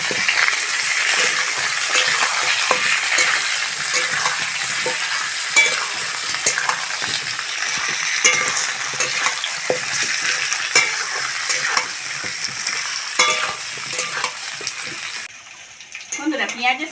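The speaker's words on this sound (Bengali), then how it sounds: "পেঁয়াজের সঙ্গে আলুটা খুব সুন্দর করে ভেজে নিয়েছি" Potatoes and onions sizzle steadily in oil in a pan while a spoon stirs and scrapes through them, a dense continuous frying hiss with frequent clinks, briefly quieter near the end.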